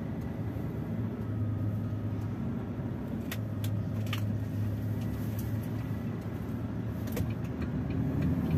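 A car engine hums at low pitch as the vehicle pulls away, with a steady drone and a brief rise suggesting a gear change, heard outdoors without talk.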